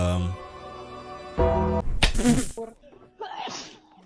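A single explosive sneeze bursts out after a short inhaled gasp, close and loud, preceded by a brief tonal sound and followed by a breathy exhale.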